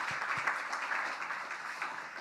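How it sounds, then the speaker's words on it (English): A crowd applauds at a port's World Ocean Day event, a steady wash of clapping from an audience honoring its president, continuous and fairly even across the whole stretch. "give our president, the first Latino to be president, a wonderful round of applause for her leadership"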